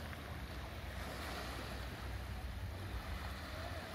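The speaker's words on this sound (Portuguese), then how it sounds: "Olha o barulho das ondas" Waves roll on the broad Tietê river at Sales, São Paulo, a soft, continuous wash of surf blended with wind rumble against the microphone, steady and fairly faint, with no voices.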